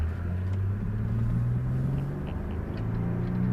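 A car's engine drones in a steady low rumble from inside the cabin as it pulls out and drives through Saturday traffic, with continuous road noise and no talking.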